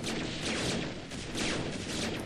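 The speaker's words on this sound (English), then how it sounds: "None of them make it through the barrage of battlecruisers." StarCraft Terran battlecruisers fire a barrage in a video game battle, a dense continuous crackle of rapid shots and blasts that stays loud throughout with no talking.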